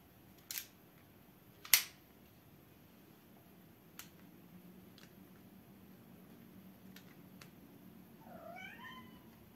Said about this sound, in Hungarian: csak a cicának volt egy kis dolga, ki kellett engedni a szobából